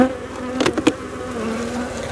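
Honeybees buzz steadily in a hive during swarm creation on the Mediterranean coast, with a low continuous drone and two brief louder rustles near the start.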